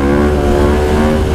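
A KTM 500 EXC supermoto motorcycle's single-cylinder engine revs hard and loud, a close, dense roaring drone held steady with no voices.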